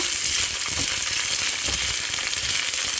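Brinjal sautés in oil in a pan, producing a loud, continuous close-up sizzle with occasional stirring scrapes, and no one speaks.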